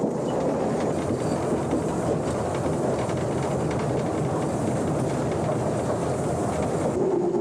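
Steam locomotive train in Poland climbing a steep 20-degree slope, a steady dense rumble of wheels and working engine with faint clickety-clack and hiss, continuous and close throughout.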